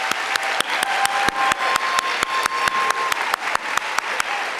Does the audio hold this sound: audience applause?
yes